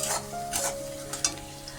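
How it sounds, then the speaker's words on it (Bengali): Onions frying in oil for an egg, soybean and potato biryani while a spoon stirs them, giving a close, continuous sizzle with a few quick scraping strokes across the pan. "এই পেঁয়াজটা লাল করে ভাজা হয়ে গেছে"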